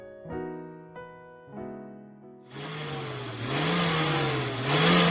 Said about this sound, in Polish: Co to za okropny hałas? Testuję mój silnik!